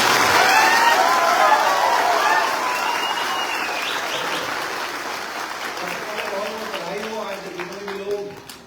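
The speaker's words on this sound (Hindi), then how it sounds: "एक बार फिर से जोरदार तालियां आपकी इस पेशेंस और आपके जज्बे के लिए।" Audience at a recognition event in Ranchi breaking into loud, sustained applause that swells at first and then gradually thins out, while a voice speaks over the clapping.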